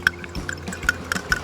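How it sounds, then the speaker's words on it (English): Eggs slide into a bowl as a quick run of soft, wet plops and drips, close and fairly clear, while preparing a smoked meatloaf. "let's get our eggs into the bowl"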